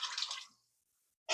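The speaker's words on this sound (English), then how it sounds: "And now we're adding 1 cup of water." A cup of water poured into a cooking pot of tomato sauce, a short splashing pour lasting about half a second, close and fairly loud, then silence before another brief burst.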